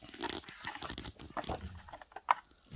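An old dog from a children's storybook reading barks faintly a few times amid soft, muffled background sounds, with one brief sharper yelp near the end.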